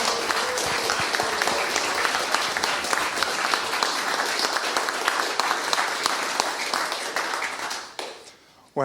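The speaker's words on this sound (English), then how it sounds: "so he deserves a round of applause." Round of applause from an online audience at a Critics' Circle awards presentation held during lockdown, with many separate claps layered into an uneven, moderately loud patter lasting about eight seconds before it drops off.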